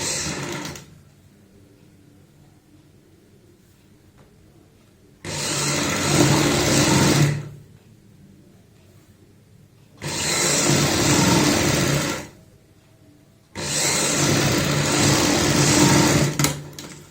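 A sewing machine stitching pin tucks along a kurti neckline, running in three sustained bursts of a few seconds each, close and fairly loud, with quiet pauses between them.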